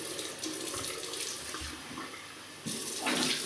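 Tap water runs steadily into a sink as a face is rinsed after a shave with a Parker 22R razor and a new Omega brush, close and continuous, growing louder and splashier near the end.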